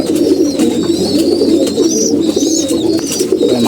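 Several pigeons coo steadily in a loft, their low, throaty calls overlapping without pause, with a few higher bird chirps faintly mixed in.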